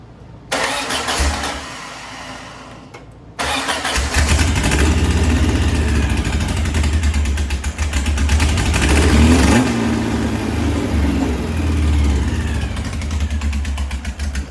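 A cold VW Type 1 1641cc engine with a Scat C35 cam and ported heads cranks briefly, then catches after a pause and settles into a loud, lumpy idle with a few revving swells, close and with nobody speaking.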